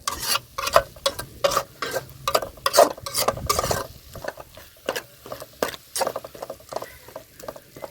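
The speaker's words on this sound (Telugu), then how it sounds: "అట్లే దంచి అల్లము కొత్తిమీర ఎల్లిపాయ వేసుకుందామండి ఇవన్నిటిని ఇట్లా కలుపుకుందాము" Ginger, coriander and garlic stirred in a pan of hot oil, with a steady sizzle and a run of close scraping strokes that ease into a quieter, lighter fry.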